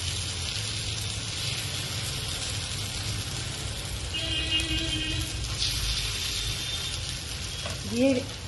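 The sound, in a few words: chilla batter sizzling in hot oil in a pan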